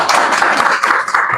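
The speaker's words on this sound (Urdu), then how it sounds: "اگر پسند آیا ہے تو محفل کا اختتام تالیوں سے کرو۔" At the close of a religious lecture, the audience claps together in a loud, dense burst of applause with no talking over it.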